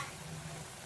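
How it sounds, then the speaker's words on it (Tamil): Chili-spiced kottu, seasoned with Kashmiri chili powder, is stirred in a hot pan, giving a faint, steady sizzle with soft scraping over a brief moment, no voices. "வந்து நல்லா இதை கிண்டி விடுவோம்."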